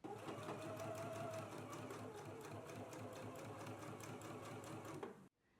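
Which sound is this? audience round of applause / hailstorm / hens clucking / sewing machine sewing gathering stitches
sewing machine sewing gathering stitches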